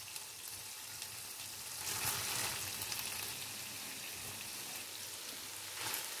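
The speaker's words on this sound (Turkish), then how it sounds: "Sosum yeteri kadar kaynadı." Tomato sauce with meatballs bubbles in a pot, a soft, constant sizzling hiss like light rain that swells briefly a couple of times, heard alone and fairly faint.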